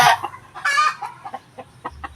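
Chickens clucking in short, close bursts: a loud squawk at the start and another around mid-clip, followed by a string of softer clucks.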